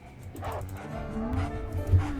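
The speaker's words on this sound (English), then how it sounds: "Oh no, another dog." A dog barks a few times in a spooky video game, the yaps and yips rising over game music and background noise at moderate volume.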